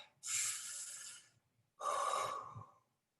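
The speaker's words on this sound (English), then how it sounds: "I can take some deep breaths" Two slow, deep breaths, a long airy inhale followed by a long exhale, close to the microphone and fairly quiet, with no talking.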